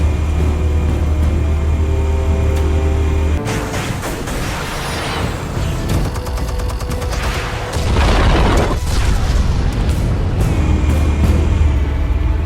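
Explosives detonating in a Batman video game: a sustained low rumble breaks into a dense crackling burst of blasts and debris, followed by another heavy low boom and rolling rumble, loud and close.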